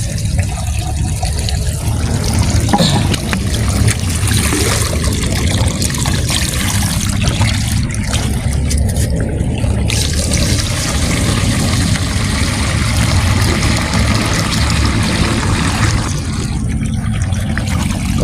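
Water rushes and splashes steadily from a hose for a long stretch, a close, continuous spray with shifting intensity and no voices.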